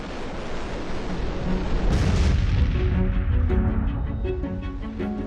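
Fireworks stored in containers at a compound in Enschede explode in a chain reaction, a continuous heavy roar of booms and crackling blasts, loud and sustained, with sharper bursts layered on top.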